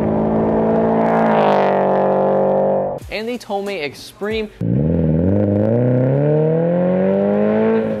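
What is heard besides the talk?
car single exit catback exhaust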